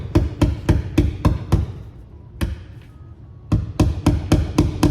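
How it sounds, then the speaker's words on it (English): Sharp, loud hammer blows strike nails in a quick steady rhythm, stop for about two seconds, then resume in another rapid run of strikes. "I was kind of scared to hammer down the rest of the nails"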